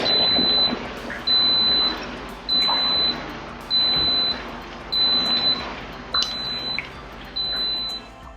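A series of high electronic beeps, about seven in steady rhythm, each lasting under a second, sounding over a noisy kitchen background.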